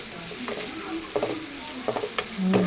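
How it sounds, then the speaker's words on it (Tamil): Chopped tomatoes sizzle in a hot pan while a utensil stirs and scrapes in short bursts, the frying steady underneath. "தக்காளியை போட்டு நல்லா ஒரு வதக்கிடுவீங்க"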